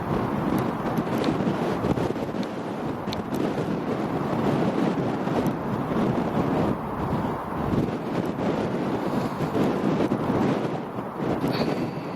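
A strong, steady wind roars over a hilltop at Brent Knoll in Somerset, buffeting the microphone with constant, loud, rumbling gusts throughout.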